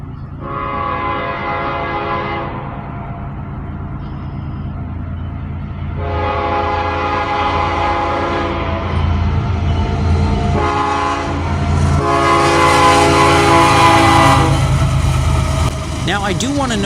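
A CSX freight train rumbles past close by, its horn sounding in several long, loud blasts over the heavy, continuous roar of the cars.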